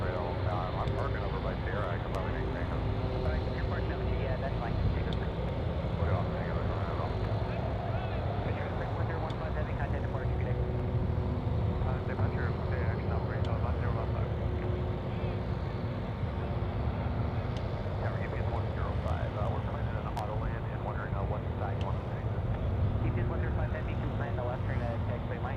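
An Air China airliner departs Anchorage airport, its engines a broad, constant roar with wind buffeting over it, heard from a distance while people talk throughout.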